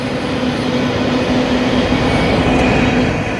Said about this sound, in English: Oh, there's the end of the train.